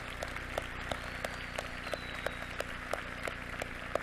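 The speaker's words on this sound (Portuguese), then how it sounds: "Uma salva de palmas para você." Applause from an audience at a motivational talk on behavioural profiles at a Wide Awake event, a fairly faint, steady patter of many hands clapping with a few sharper individual claps throughout.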